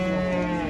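A cow at a livestock market gives a single loud, close moo, a sustained low tonal call filling the whole moment.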